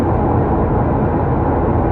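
Another airplane takes off nearby, a continuous dense jet roar holding steady throughout with no voices over it.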